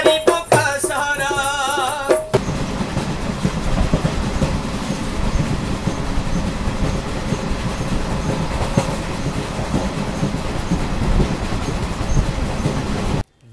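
A train rolls through Kopargaon railway station, a loud sustained rumble with steady wheel clatter that follows a short burst of devotional song at the start, then cuts off abruptly at the end.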